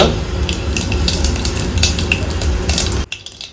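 Asafoetida dropped into hot oil with mustard seeds for a ridge gourd tempering, a loud close crackling sizzle with pops that cuts off abruptly near the end.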